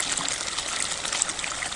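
Steady running water from a faucet fed by mountain spring thermal water, a continuous close hiss and splash with no voices.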